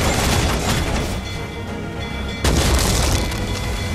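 Ship cannons firing in Assassin's Creed Freedom Cry: heavy, sustained booming roar that eases off, then surges again with a fresh loud blast halfway through.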